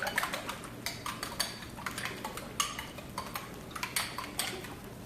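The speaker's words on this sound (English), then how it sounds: "I'm going to stir it." Three eggs stirred with a utensil for a Ghanaian nkontomire (palava sauce) stew, giving a steady run of close, light clinks and scrapes against the bowl at an even rhythm, with no voices.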